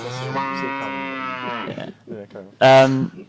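A person imitates a cow with a long, drawn-out vocal moo, followed by a few shorter grunts and a loud final moo.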